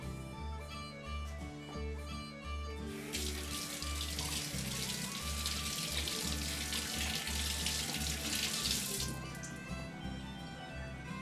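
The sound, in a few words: rinsing hands under a running tap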